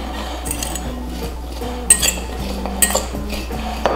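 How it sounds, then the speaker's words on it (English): Utensils toss seasoned salad ingredients in a bowl, producing soft shuffling with occasional metallic clinks and scrapes, some louder, over a faint steady background hum. "I'm just gonna mix this and put it on the sheet over here."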